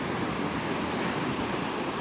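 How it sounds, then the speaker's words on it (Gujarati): Huge sea waves crash on the shore, a dense unbroken roar of surf that holds loud and close throughout with no voices over it. "મોજા કેવા આમ તો જો બાપ રે બાપ કેવા ભયંકર મોજા હે"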